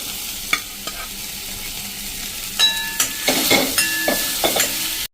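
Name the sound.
onions added to sizzling tempering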